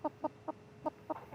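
A large hen about 2.47 kilograms clucks on a vet's examination table, five short soft clucks spaced irregularly, close and fairly quiet.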